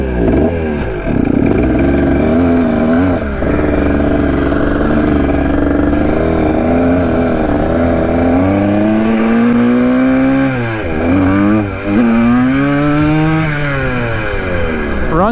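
A long-neglected, locked-up Kawasaki dirt bike engine runs loud and close while being ridden, a continuous buzzing drone that rises and falls in pitch as the throttle changes.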